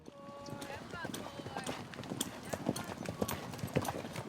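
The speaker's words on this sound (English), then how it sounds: "Just getting started as the Wranglers drive in the horses at Paradise Ranch." At Paradise Ranch in Wyoming, wranglers drive a herd of horses in, and many hooves clip-clop in an uneven, continuous patter at moderate distance while someone talks over them.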